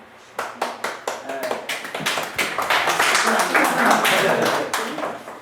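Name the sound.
audience applause at a lecture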